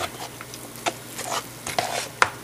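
Pancake batter being stirred in a bowl: quick, uneven wet scrapes and taps of the utensil against the sides, close and fairly quiet, over a soft sizzle from the pan.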